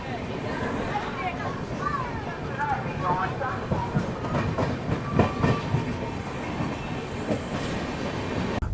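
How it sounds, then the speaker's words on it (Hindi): Express train rolling along the rails at night on the Danapur–Secunderabad route, a steady rumble with a faint clickety-clack rhythm and occasional wheel squeal, heard from inside under the talk of people aboard. "अपनी ट्रेन जो है बस मानिकपुर जंक्शन को स्किप करने वाली है"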